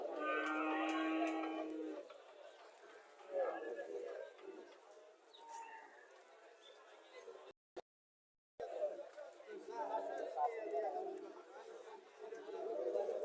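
A local red dairy cow lets out a low, drawn-out moo at a cattle sale in Cumilla, lasting about two seconds near the start. Several people then talk over a busy outdoor background.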